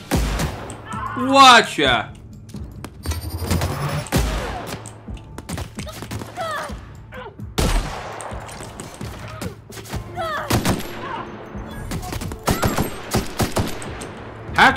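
Assault rifle fire in The Outer Worlds, bursts of rapid shots and impacts spread across the clip, loud and close, with a voice exclaiming and talking between volleys.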